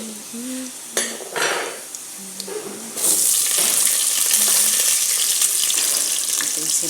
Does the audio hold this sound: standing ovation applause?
no